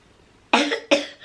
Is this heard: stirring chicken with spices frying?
no